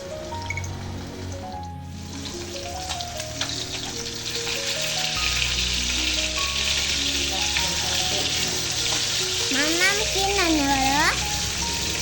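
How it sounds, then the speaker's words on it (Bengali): Rohu fish sizzles gently in a pan on a home stove, a soft steady frying hiss under music and children's chatter. "মাছ ভেজে নিচ্ছি, তবে খুব বেশি ভাজবো না।"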